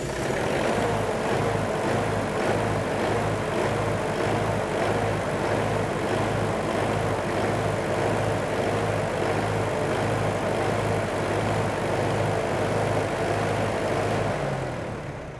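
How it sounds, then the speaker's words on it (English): A standalone generator engine starts and runs unloaded in a workshop, its engine slightly hunting; a loud, steady low drone with rhythmic pulsing holds throughout, then drops away at the end. "you will have noticed during that initial startup that the engine was slightly hunting"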